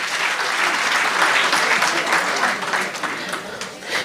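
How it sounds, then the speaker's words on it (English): Steady applause from a crowd at a primary school summit, dense clapping that holds for several seconds and thins slightly toward the end. "Let's give them a round of applause."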